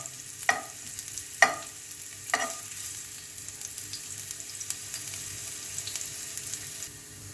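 Steady sizzling of chicken frying and browning in a pan for fried rice, with three sharp utensil knocks early on as it's stirred, then a continuous quiet crackle.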